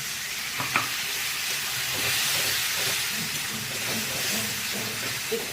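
Fig kofta masala sizzles and hisses loudly in a pan as water is added a little at a time and stirred in, a continuous close frying sound with no talking.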